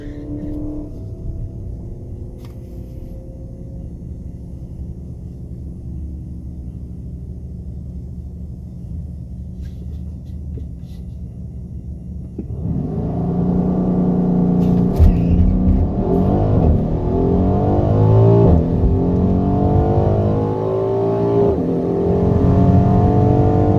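A stock 2020 Mercedes-AMG GLC 63s Coupe launches down a quarter-mile drag strip in automatic with traction control off. A steady close idle rumble gives way to a loud surge of revving, then rising engine roar through the gear changes.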